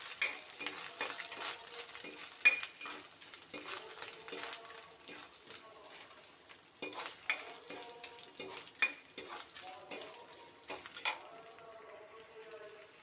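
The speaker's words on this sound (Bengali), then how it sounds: "কাজু কিশমিশ নারকেল ভেজে নেওয়া হয়ে গেছে" Cashews, raisins and grated coconut fry in hot oil in a pan, giving a steady low sizzle broken by frequent scraping stirs, close and fairly quiet, with no talking.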